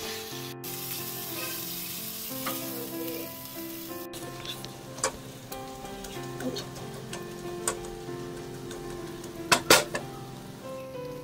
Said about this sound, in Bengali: মাঝারি আঁচে ক্রমাগত নেড়ে নেড়ে মশলাটাকে কষিয়ে নেব